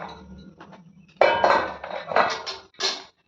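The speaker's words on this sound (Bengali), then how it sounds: "প্রথমে আমি বড় গামলিটা নিলাম আর বড় গামলিটাতেই বসিয়ে দেবো" A large metal mixing bowl is lifted and set down in a Bengali home kitchen, making a few sharp clanks and scraping rattles in quick bursts separated by short pauses.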